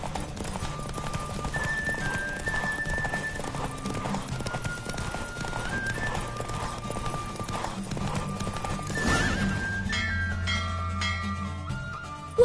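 Horse galloping flat out in a race in The Witcher 3, rapid rhythmic hoofbeats close up over game music, with a whinny and the pounding easing off near the end.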